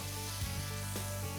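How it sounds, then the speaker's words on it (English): Red and green bell peppers and purple onions sizzle in a hot pan for a Cajun chicken pasta, a steady, close frying hiss that holds evenly through the short moment. "Add red and green bell peppers. We want the sizzle."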